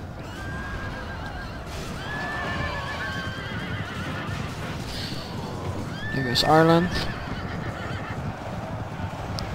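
Horses neigh and whinny amid the clamour of a Medieval II: Total War Kingdoms battle, Ireland against a baronial alliance, with a loud whinny near the end over hoofbeats and crowd noise while someone talks throughout.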